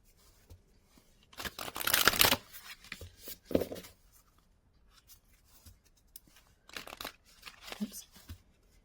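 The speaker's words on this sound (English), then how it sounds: "Sometimes I can't riffle shuffle oracle cards because they're too big, and I have to do" Large oracle cards from a seashell-themed deck are waterfall-shuffled by hand, giving a few quick papery flutters and crinkles, loudest in one burst near the start and fainter bursts later, with quiet pauses between.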